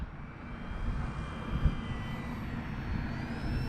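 An RC F4U Corsair model airplane drones steadily on approach to the runway, a continuous engine hum with a faint rising whine, heard outdoors at moderate distance with no talk.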